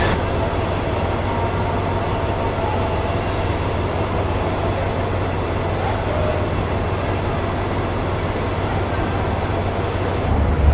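A loud, continuous rumble and rattle of a steam locomotive pulling regular third-class carriages along the tracks, steady throughout.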